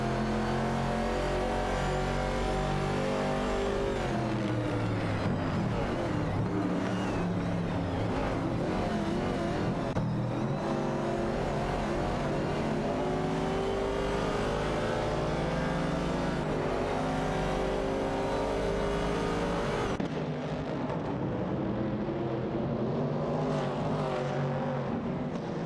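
Race cars lapping a track in an AI-driven racing game, engines droning and revving loudly and steadily, with rising pitch sweeps as cars accelerate and pass, no talk.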